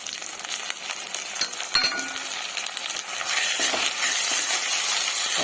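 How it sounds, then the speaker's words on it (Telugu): Ginger paste frying in oil with half a kilo of chicken in a pan, a steady sizzle that grows louder and denser, with occasional clinks and scrapes of a stirring spoon. "అల్లం పేస్ట్ మొత్తం కూడా బాగా ఫ్రై అయ్యి ఆయిల్ పైకి వస్తుంది కదా"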